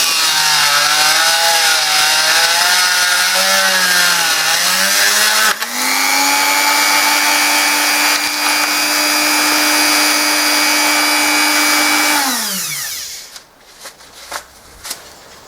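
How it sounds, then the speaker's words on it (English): A Dremel rotary tool cuts into the handle of an Opinel No. 8 knife, a loud, steady high-pitched whine with a sliding pitch that winds down near the end, followed by a few faint clicks. "I'm gonna cut it with a Dremel tool"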